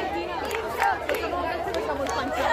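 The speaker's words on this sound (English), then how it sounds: "Before Jin arrival, armies were chanting his name loudly." A large crowd of fans loudly chanting a K-pop star's name outside an event, a dense roar of many voices with rhythmic surges and sharp peaks.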